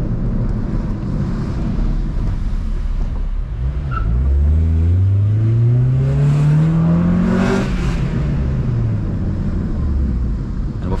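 An old car engine revs up, its tone climbing steadily and loudly over several seconds with a constant rumble and wind noise behind it.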